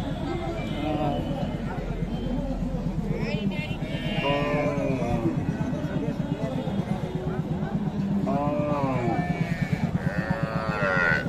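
Friesian cows at a village cattle market in Gafargaon moo several times, with deep drawn-out calls rising over constant crowd chatter and nearby voices.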